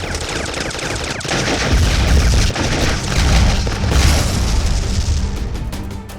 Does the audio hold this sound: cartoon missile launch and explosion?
yes